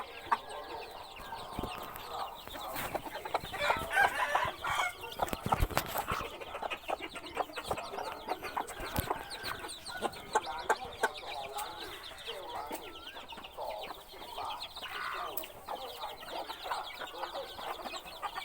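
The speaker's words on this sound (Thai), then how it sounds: "ชมบรรยากาศไก่ดีกว่าครับ" Fighting chickens and roosters in breeding and rearing pens on a gamecock farm, with scattered clucks and calls at moderate distance, some sharp and close, over a busy farmyard background.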